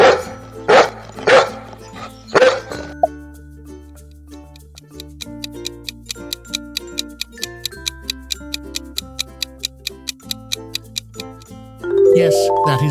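A dog lets out a quick burst of three or four loud barks, then a steady clock-like ticking runs under a light tonal music bed.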